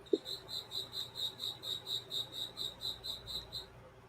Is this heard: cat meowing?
no